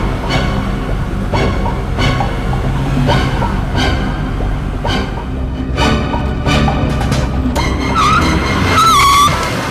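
A car on the road runs loud and steady beneath a dense, rumbling music track, with repeated sharp hits through it. Near the end a rising tire screech marks a sudden stop.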